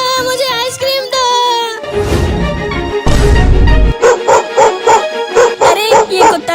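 Cartoon dog yelping, whimpering and barking in quick, loud, high-pitched bursts over a bright cartoon music score, with a heavy thumping crash partway through.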